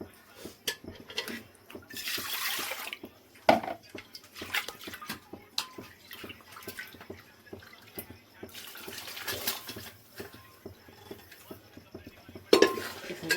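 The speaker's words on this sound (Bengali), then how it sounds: "কুকারটা ধুয়ে সামান্য একটু জল দিয়ে দেবো।" A pressure cooker being washed and filled with a little water, metal clinks and knocks of the pot under trickling and splashing water, fairly quiet and close with irregular handling sounds.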